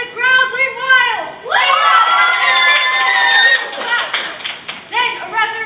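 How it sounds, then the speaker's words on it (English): A crowd on the steps of City Hall cheers wildly in welcome, loud and sustained, with high excited shouts and screams from children rising and falling over a continuous roar of voices. "And the crowd went wild."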